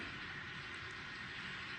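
Model trains run on a Union Pacific and BNSF layout with hills and a helix, giving a steady, continuous rumble and hiss of wheels and motors at a moderate, even level with no talking.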